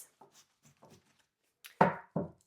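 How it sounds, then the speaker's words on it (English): A tarot card deck being shuffled, with a few faint riffles followed by two louder, close bursts of card swishes in separate strokes. "we're going to give it another few swishes"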